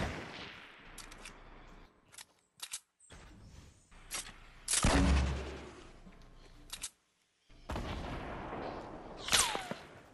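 Gunshots in a Fortnite battle royale match, scattered sharp reports and a few louder close bursts separated by quiet gaps, with no talking over them.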